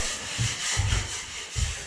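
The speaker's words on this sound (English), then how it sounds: "just scrape away all those ridge lines there" A scraper rasping across a ceiling to knock down ridge lines during popcorn ceiling removal, in repeated broad scraping strokes, close and moderately loud, with no talk.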